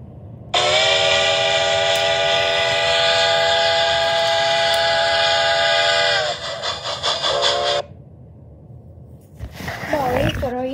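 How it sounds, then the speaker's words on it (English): A loud train whistle blows in one long sustained blast for several seconds, then cuts off, followed by brief rumbling and clattering. "they heard a whistle"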